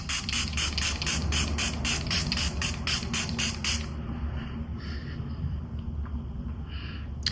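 A face mist spray hisses in a series of rapid, evenly spaced bursts, fairly close, ending around the midpoint, with quieter room background continuing afterward.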